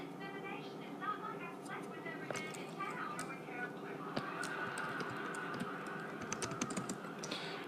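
Keyboard typing clatters in quick irregular bursts of keystrokes, close but modest in level, mixed with a steady background hum and a sustained tone partway through.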